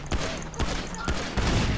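Gunfire in the video game GTA 5 roleplay, several sharp shots fired in quick bursts about a quarter second apart over a noisy game background.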